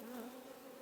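Honey bees hum around a hive being readied for honey harvest, a close, steady buzzing drone that wavers slightly in pitch, with no voices.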